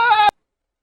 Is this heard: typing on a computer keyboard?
no